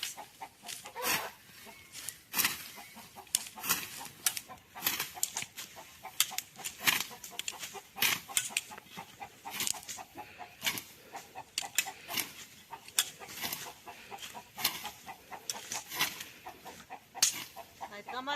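Chickens and roosters in a village near Antalya, Turkey, cluck in a steady, busy series of sharp, close calls, with a few wing flaps among them.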